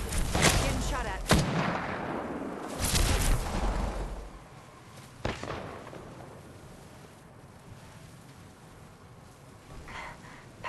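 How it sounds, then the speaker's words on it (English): Video game gunfire: several sharp shots in the first seconds, one isolated crack near five seconds, then a quieter stretch with faint distant activity. "Getting shot at."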